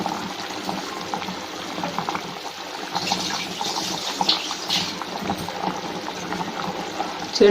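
Water boiling in a pot for chicken biryani rice makes an uneven bubbling and rushing wash, moderately loud and close, swelling in the middle and carrying on without talk.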